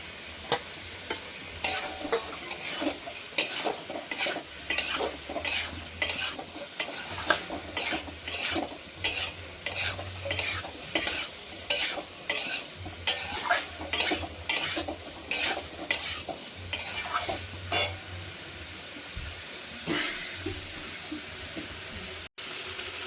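Cauliflower, potato and paneer fry with spices in a pan while a utensil stirs in a steady rhythm of scraping strokes over a low sizzle, slowing toward the end.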